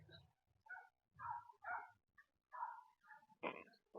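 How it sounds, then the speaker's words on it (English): A dog barks in several short yips and bow-wows at a picnic on grass, fairly close and mixed in with low-level human chatter. "There's a dog barking."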